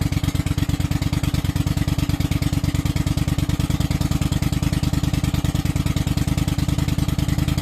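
A Honda GL500 twin-cylinder motorcycle engine, after sitting for about six months, runs at a steady, loud idle up close, its rapid even firing pulses chugging continuously throughout with no talk over it.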